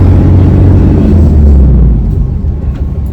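An airport shuttle bus carrying passengers to the plane, with a loud, close, steady low rumble of the engine and road noise that eases slightly toward the end.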